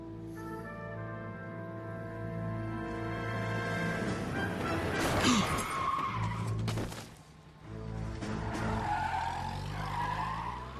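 A car in LA Noire revving and skidding, with long tire squeals over a steady engine drone, a brief lull midway, then more screeching slides.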